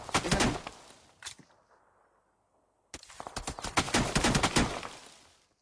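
Video-game gunfire comes in two dense bursts of rapid crackling shots, near and loud, split by a short quiet gap with one isolated shot in it.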